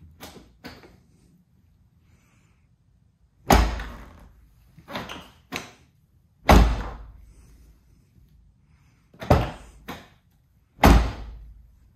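Insulated van door closing solidly, with several separate heavy slams and thuds spaced apart, each a firm, deadened impact with a short decay and no tinny ring, with no talking.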